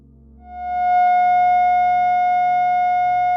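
One clear electronic F sharp tone, bright and sustained, fading in over the first second and then ringing steadily without a break.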